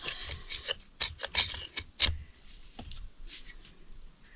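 A piece of fatwood is smoothed with a file, giving close, crisp rasping strokes in a quick irregular series, then fainter scraping.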